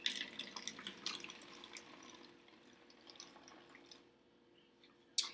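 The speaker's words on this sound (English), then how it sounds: "They will pour the vinegar into the water bottle, carefully and slowly," Vinegar poured slowly into a water bottle in a classroom science demonstration, a faint trickling, splashing liquid flow that tapers off, ending with a brief sharp knock.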